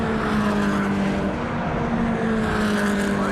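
BMW Compact Cup race cars roar around the Brands Hatch Indy circuit, a loud sustained engine drone with shifting pitch as cars pass at a distance.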